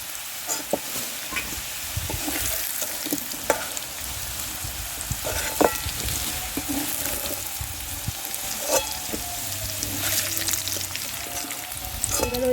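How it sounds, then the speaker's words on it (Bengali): Taro pieces frying in oil in a home kitchen, a steady soft sizzle with occasional clinks and scrapes of a spatula stirring the pan throughout. "দু তিন মিনিট ভালো করে ভেজে নিয়েছে লাল লাল করে"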